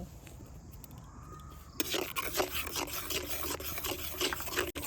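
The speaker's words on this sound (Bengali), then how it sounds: "এইভাবে মিশিয়ে মিশিয়ে একটা সফট ডো বানিয়ে নেব" Rice flour dough with salt gets kneaded by hand into a soft dough for pumpkin pitha; after a quiet start, a close, rough rubbing and squishing starts abruptly and continues in uneven strokes, with no talking.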